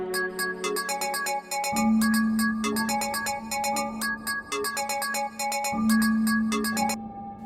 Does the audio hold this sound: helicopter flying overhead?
no